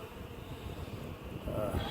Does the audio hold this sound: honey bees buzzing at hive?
yes